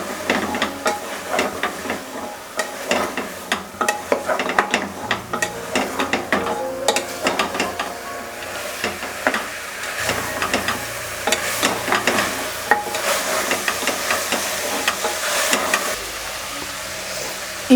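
Soya chunk mixture sizzles and hisses in a hot pan while a utensil stirs and scrapes it, producing a steady, busy frying texture with repeated clicks.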